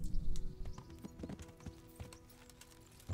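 Horse hooves clip-clop in the medieval video game Kingdom Come: Deliverance, a quiet run of irregular hoof strikes over a low background hum, with no talking.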